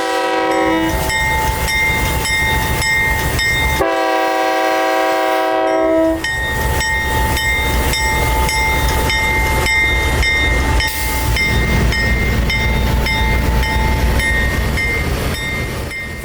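CSX freight train led by a wide cab -8 and an ES44AC-H locomotive, rolling into a yard with loud, close, repeated multi-tone horn blasts over heavy engine rumble and rail clatter, followed by a steady roar as the consist passes.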